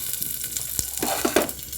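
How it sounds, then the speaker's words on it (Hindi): Chopped onions sizzle and fry in a pan, a steady close crackle with a few brief stirring scrapes, no voices. "एथिरे आमे पियाज को फ्राई करवा।"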